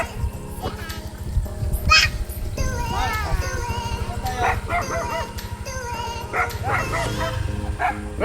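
A dog barks and yips repeatedly in a domestic setting, several close, sharp barks and whimpers over steady background noise, with people talking nearby.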